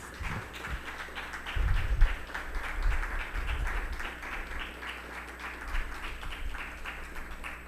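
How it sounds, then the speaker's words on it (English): Audience applause at a university prize ceremony for investigative journalism: steady, dense clapping runs throughout at moderate volume, with a low rumble underneath and no clear ending. "Give them a big round of applause, please."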